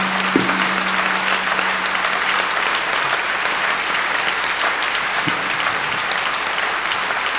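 A church congregation in Kpalimé, Togo, claps and applauds steadily and loudly throughout, a dense continuous wash of hands with a faint sustained tone near the start.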